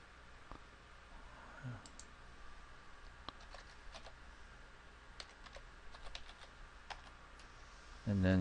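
Computer keyboard typing at a workstation while logging into a competition portal, soft irregular key clicks in short bursts under a faint steady room hum, with a louder thump at the very end.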